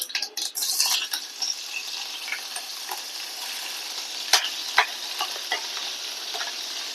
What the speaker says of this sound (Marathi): आता इथे मी हिरवी मिरची कट केलेली आहे ती टाकते